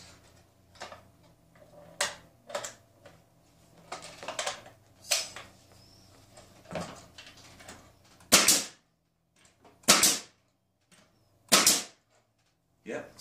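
Tacwise HCN65P flat coil nailer driving 2.1 mm nails, three loud sharp bangs spaced about a second and a half apart after a stretch of lighter clicks and handling knocks, close to the microphone.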